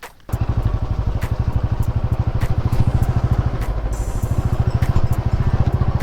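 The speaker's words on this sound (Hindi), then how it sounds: "बाइक से हम कोशिश करेंगे वहाँ पहुँच सकें" A motorcycle engine runs steadily close by with a fast, even chugging pulse, as on a ride toward an old Shiva temple in Jharkhand at sunset.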